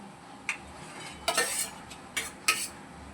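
Chicken pieces tipped into a chicken curry pan, a few quiet clinks and scrapes of a utensil against the pan with a soft sizzle between them.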